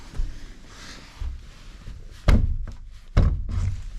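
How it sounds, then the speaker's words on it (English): A French door onto a freshly finished deck is handled, giving two solid thunks about a second apart over a quiet room background. "Let me open the door."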